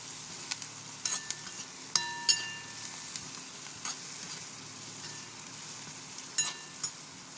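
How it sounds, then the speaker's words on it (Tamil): Onions sautéing in a hot pan of oil give off a steady, soft sizzle with scattered crackles and pops throughout, with no voices over it. "நல்லா வதக்கிப்போம். வெங்காயம் நல்லா வதங்கட்டும்."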